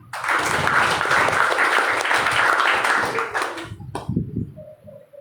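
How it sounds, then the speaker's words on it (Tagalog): Church congregation claps in a loud burst of applause for about four seconds, then it cuts off and a voice takes over with a sharp tap. "Lahat ng mga born again dito pumalakpak."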